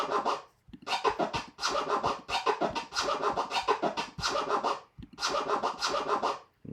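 Rapid DJ turntable scratching in three-click orbit patterns, with repeated bursts of stuttering record cuts in a steady rhythm, loud and close with no talking.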